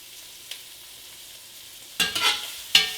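Pork browning in a pot for Cajun shrimp and sausage jambalaya, a soft steady sizzle broken by a few sharp bursts of stirring and scraping near the end, close up.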